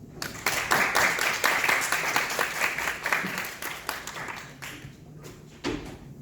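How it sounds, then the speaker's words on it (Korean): Audience applause fills a hall at the 2024 KSCE civil engineering convention: dense, sustained clapping from a large crowd, loud and steady for several seconds before thinning out toward the end. "큰 박수 부탁드립니다"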